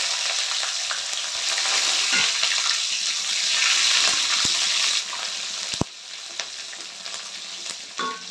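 Cashews and green chillies sizzle and crackle in hot oil in a pan for bread upma, a dense continuous frying hiss broken by a few sharp stirring knocks and clinks, close and loud with no talk.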